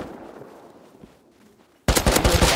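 Burst of AK rifle fire in the survival game Rust, a loud rapid volley of close shots that starts abruptly after a quiet stretch of faint ambient noise.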